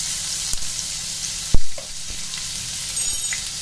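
Chopped onions fry in about a tablespoon of hot oil with mustard seeds and curry leaves for a green bean and coconut sabji, making a steady close sizzle broken by a sharp spatula clank and scattered stirring taps.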